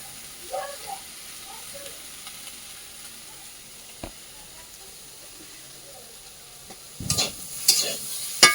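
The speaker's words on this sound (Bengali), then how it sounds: "সুন্দর করে কষাই করে দেবো" A koi fish curry is sautéed and stirred in a frying pan, with a soft, steady sizzle. Sharper scraping and stirring strokes come in near the end.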